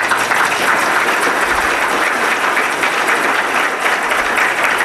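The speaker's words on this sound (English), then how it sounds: "Can we have a round of applause, please?" Dense, sustained audience applause at a business center's opening session, loud and even throughout with no talking over it.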